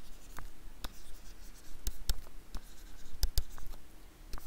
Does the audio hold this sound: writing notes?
yes